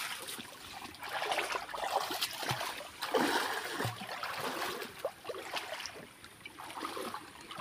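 Water tumbling over rocks at a small village waterfall, a steady broadband rush with splashy bursts throughout, close and continuous with no talk.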